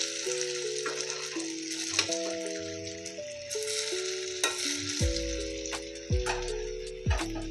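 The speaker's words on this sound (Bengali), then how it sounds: "এগুলোকে এইভাবে উল্টে দিয়ে বেশ লাল করে ভেজে উঠিয়ে নেব।" Puffed chaat snacks fry and get turned in hot oil, giving a soft steady sizzle with light clicks and taps under background music.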